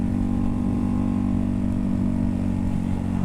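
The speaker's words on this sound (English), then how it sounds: "the fucking bike is sounding awesome" A Ducati Hypermotard 698 Mono single-cylinder engine with Austin Racing exhaust cans on stock pipes runs at a steady, loud rumbling idle-to-cruise, with strong low harmonics throughout and no talk.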